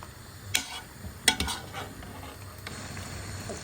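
Finely minced large onion hitting meat in a cooking pan: a few sharp utensil clinks and scrapes against the pan over a faint, steady sizzle, close by.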